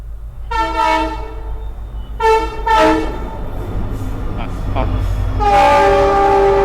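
Train horn blasting in several long, loud honks as the train passes close by, over a steady low rumble of the cars rolling along the track.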